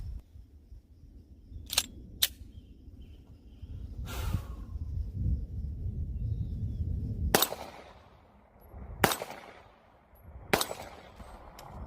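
Three pistol rounds fired at a 6-inch target from 15 yards, likely through a red-dot-equipped handgun, come as sharp, loud cracks spaced unevenly over a low background rumble.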